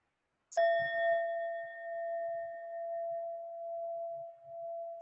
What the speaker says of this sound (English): Keeping eyes closed then at the sound of the bells.